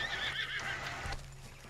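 In the Red Dead Redemption 2 video game, a horse lets out a brief, high whinny up close during a bear hunt, with faint hoof movement beneath.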